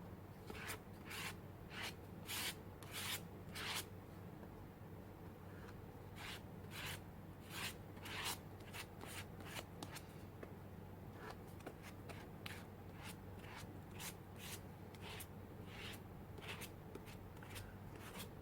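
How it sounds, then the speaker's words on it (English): A plastic card scrapes and spreads white glue across sketchbook paper, with rhythmic rasping strokes in quick bursts, close and quiet. "I'm just going to put some white glue with a plastic card"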